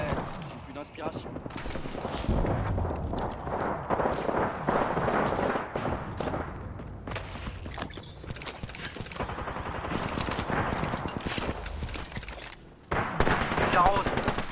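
Gunfire rings out in an Apex Legends match played as Ash, a dense run of rapid shots and bursts filling most of the stretch, with a brief lull near the end before firing resumes.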